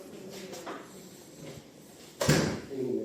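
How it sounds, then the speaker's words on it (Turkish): A door is shut indoors, a single thud with a brief rattle, moderately loud against a quiet room background. "kapıyı kapatalım"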